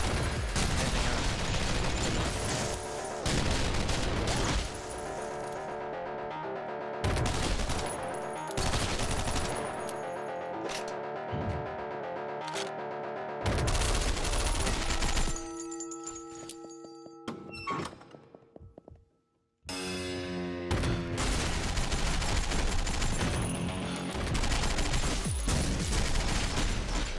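Bursts of rapid gunfire and heavy thunks come from the top-down roguelike shooter OTXO, alternating with quieter game music and a brief silence near the end.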